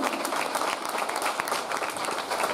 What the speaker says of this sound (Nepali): त्यस्ता महान पिताको लागि एकफेर ताली बजाउ हजुर